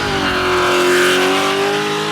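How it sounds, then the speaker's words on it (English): A classic Australian V8 Ford Falcon muscle car holds a loud, steady rev, its deep engine note rising slightly and then easing over a couple of seconds, with no voices. "you just can't beat the sound of a V8"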